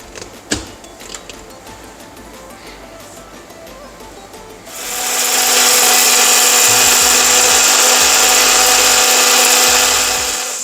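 A mixer grinder jar grinds cooled, roasted Dindigul biryani masala spices. After a few seconds of quiet handling clicks, a loud, steady, close whirring roar starts and runs unbroken to the end.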